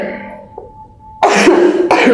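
After a quiet moment, a person coughs twice in quick succession, loud and close.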